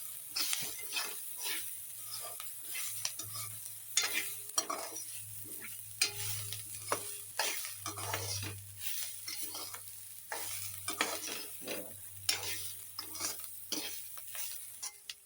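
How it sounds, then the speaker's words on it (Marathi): Sliced bitter gourd stir-fried with onion in a hot pan, continuous soft sizzling broken by repeated scraping strokes of a spatula, close up with no talk. "आता मी ह्याच्यात कारली टाकणार आहे हे बघा ही कारली आता मी ह्याच्यात टाकणार आणि ते परतून घेणार"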